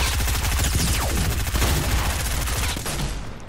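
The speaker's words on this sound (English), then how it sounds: "Someone's shooting this." Rapid video game gunfire rattles on without pause in a cartoonish food fight, the bursts of shots dense and loud throughout and fading slightly at the end.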